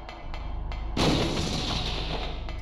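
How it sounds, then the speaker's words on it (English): A sudden loud explosion booms in the Silent Hill video game after a few soft rhythmic thumps, then a rumbling, crackling roar lingers for over a second. "It sounded like an explosion."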